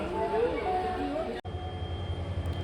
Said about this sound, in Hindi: पुणे शेड का WDP 4D लोकोमोटिव, जो कि आज का हमारा लीडर लोकोमोटिव है और हमें लीड करेगा पुणे से अमरावती